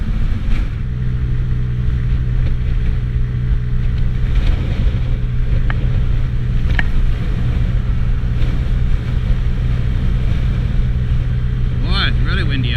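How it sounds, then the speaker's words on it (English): Heavy wind buffets steadily while riding a Honda Ruckus scooter in cold weather, with a low engine drone underneath, a constant roaring rush throughout while a voice speaks briefly near the end. "Boy, it's really windy out today."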